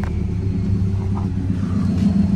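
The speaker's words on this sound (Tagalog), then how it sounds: "pakinggan nyo pala yung exhaust nito guys" A 2010 Subaru Forester XT with a stainless straight-pipe exhaust idling close by, a low, steady throaty rumble with no talk over it.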